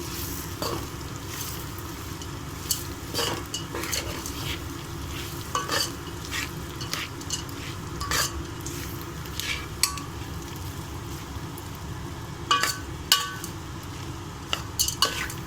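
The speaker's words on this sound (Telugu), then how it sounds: "ఇప్పుడు ఈ రైస్ వేసేసుకుందాము. బాగా కలిపేసుకోవాలండి." A spoon stirs garlic rice around a hot frying pan with chopped garlic, scraping and clinking against the metal in irregular strokes over a steady sizzle, close and alone.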